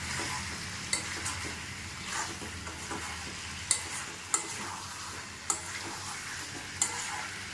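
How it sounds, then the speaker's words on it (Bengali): Chicken stir-fries in a pan with a constant sizzle, broken by sharp scraping clicks of a spatula every second or so, close and fairly loud with no talking. "দেখুন মাংসটি প্রায় কষানো হয়ে এসেছে।"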